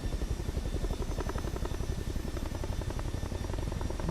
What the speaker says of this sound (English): Just enjoy the Chinook for a little bit as we come in for a landing.